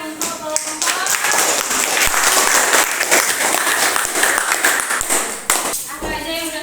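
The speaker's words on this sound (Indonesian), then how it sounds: "Yuk, beri tepuk tangan untuk kelompok." A classroom group claps loudly and steadily for several seconds, with a few voices and chatter mixed in before it tapers off.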